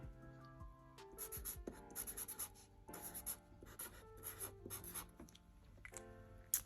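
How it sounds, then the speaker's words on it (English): A pen writes on a paper cash envelope, making close, quiet scratching strokes in short bursts with brief pauses between words, alone and without speech. "So I am gonna write Amazon on here."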